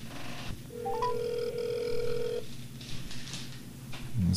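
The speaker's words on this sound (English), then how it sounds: "this is the time of the night where we call Brother Phil" A telephone call rings out, with a steady electronic tone running for under two seconds over faint background hum, followed by quiet line noise.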